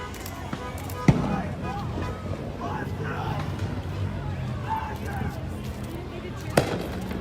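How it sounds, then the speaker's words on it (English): Two sharp firework bangs, one early and one near the end, over a noisy outdoor protest crowd in Minneapolis with people talking and shouting. "Fireworks."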